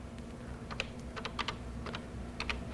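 Keys tapped on a Color Computer keyboard, a quiet string of irregular clicks in small bursts over a faint steady hum.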